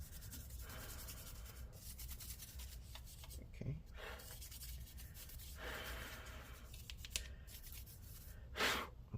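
Soft brushing and rubbing strokes sweep over the touchpad area of an Apple M3 MacBook Pro A2918 laptop, quiet and close, in irregular bursts with small taps between them.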